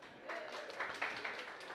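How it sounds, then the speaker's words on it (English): Faint, distant applause from an audience at a talk on African emancipation and shared prosperity, a soft steady patter of clapping throughout, fairly quiet in the room. "round of applause to you guys"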